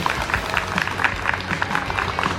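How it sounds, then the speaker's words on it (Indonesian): A small group claps outdoors at a festival, the claps sparse and slightly uneven, heard over a low background rumble. "tepuk tangan"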